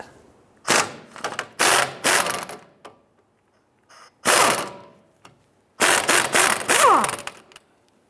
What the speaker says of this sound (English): Using a 19mm deep socket, we're going to go ahead and loosen and remove this upper nut